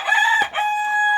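A German fowl rooster crows loud and near at a Chitwan poultry farm, giving one strong call that breaks briefly, then trails into a long held note.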